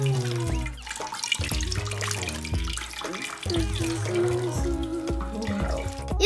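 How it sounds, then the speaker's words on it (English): Water streaming and dribbling out of a plastic bag pierced by pencils, a fountain-like trickle heard close up under bright background music or tones, with no clear talking. "It's leaking, guys! It's like a water fountain."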